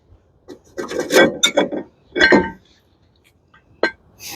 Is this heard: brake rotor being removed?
yes